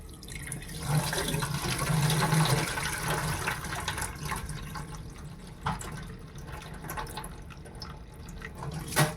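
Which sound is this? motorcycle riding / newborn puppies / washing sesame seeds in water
washing sesame seeds in water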